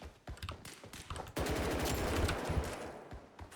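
Groza rifle gunfire in the video game BRM5, a few quick separate shots followed by a long, loud, rapid automatic burst that then tapers back to scattered shots.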